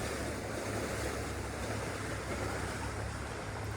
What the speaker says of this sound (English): you can see all the waves coming here from the boats